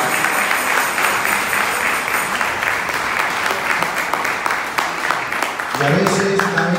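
Congregation applauding for the Lord during a church service, a dense steady clatter of many hands throughout, with music and voices blending in underneath toward the end.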